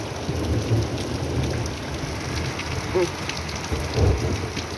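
Heavy May thunderstorm rain pours in a steady broadband hiss, with low thunder rumbling briefly near the start and again more strongly toward the end.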